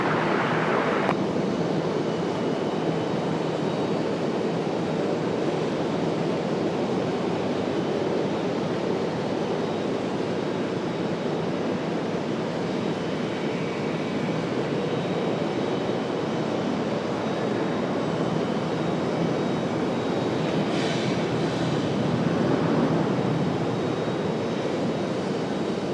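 Jet airplane taking off from runway 23 left at Raleigh-Durham airport, a loud sustained engine roar that holds steady for the whole stretch, heard from the ground at a distance without talk.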